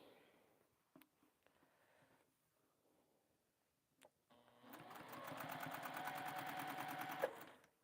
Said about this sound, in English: I'm just sewing the square onto the end over here.